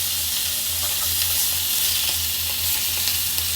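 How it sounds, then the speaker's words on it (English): Bacon sizzles steadily in a skillet, a close and continuous crackling hiss with small pops, heard alone without voices. "And so we'll go ahead and drop it in the skillet."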